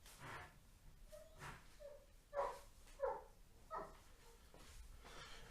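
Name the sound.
dog barking in the garden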